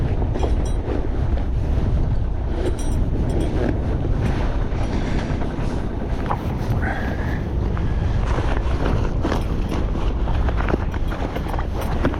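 Strong wind blows across a sailboat heading upwind in open water; a loud, continuous roar of wind buffeting the microphone fills the whole stretch, with no speech.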